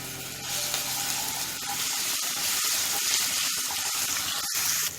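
Cumin seeds and ginger garlic paste frying in oil in a karai, a dense continuous hiss and sizzle close up, with small crackles and pops scattered throughout.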